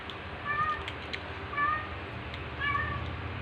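Cats meow outdoors, three drawn-out cries at roughly one-second intervals, distant and faint over steady background hiss.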